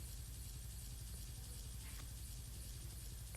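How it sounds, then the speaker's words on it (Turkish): A steady, loud Roblox Brookhaven game helicopter drone with a low rhythmic rotor thump running throughout, no voices. "Bu helikopteri sürmek biraz zor."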